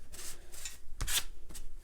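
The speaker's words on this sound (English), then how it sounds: "It's just fun to scrape." Rasping scrapes of a tool dragged across paper on an abstract coastal watercolor painting, several brisk strokes in an uneven rhythm, close and fairly quiet with no speech.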